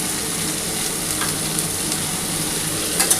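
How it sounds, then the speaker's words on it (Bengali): Summer vegetables fry with turmeric, salt, sugar and coriander powder in a pan for a light rohu fish curry, giving a continuous close sizzle with occasional stirring scrapes and no talking. "এবার খুব ভালো করে একটুখানি সমস্ত সবজিটাকে ভাজা করতে হবে।"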